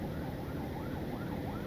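An ambulance siren wails continuously through street traffic, its rising and falling tone layered over road noise and engine rumble at moderate distance.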